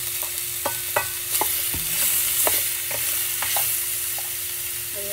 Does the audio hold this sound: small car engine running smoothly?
no